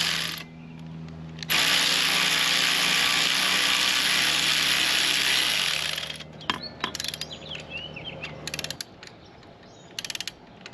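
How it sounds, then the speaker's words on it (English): Socket ratchet on hex bolts during a center stand install on a Honda Rebel 1100, heard as a loud sustained mechanical whir followed by sharp, close clicking bursts of metal parts. "Tighten the hex bolts down with a 5mm hex head socket, then torque them to 15 foot-pounds."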